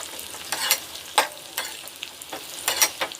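Raisins frying in a pan while being stirred for carrot halwa give soft sizzling with intermittent scraping stir strokes, fairly quiet and close, with no talking.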